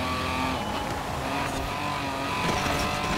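Engine-swapped four-wheel-drive Lancia rally car racing on snow in Forza Horizon 4, a loud continuous engine roar with tire squeal and skidding throughout, no voices.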